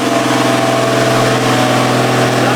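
A Volvo engine, built up to 500 horsepower, warms up on a dynamometer with a loud, constant drone. The tone stays steady and mid-pitched throughout, with no pauses and no speech.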